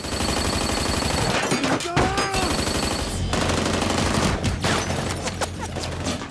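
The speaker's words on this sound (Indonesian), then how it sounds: "Aksi baku tembak pun terjadi hingga membuat Serge merasa kewalahan." A shootout in a heist action film, with dense rapid bursts of automatic gunfire that run loud and close under a music score, broken by a brief screeching effect.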